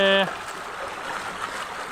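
Water runs along a village road on a Kathiyawad farm toward a well for recharge, passing under a wall; a brief tone opens, then a steady, broad rushing wash continues.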